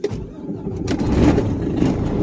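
A turbocharged car engine cranks and catches, then settles into a steady, rough idle outdoors on a cold, windy day, with gusts of wind noise mixed in close to the microphone.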